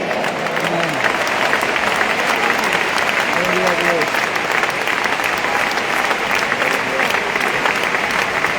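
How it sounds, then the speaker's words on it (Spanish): Loud, sustained applause from a large crowd at a church convention service fills the space, with a voice speaking briefly over it. "Debe ese aplauso a Dios."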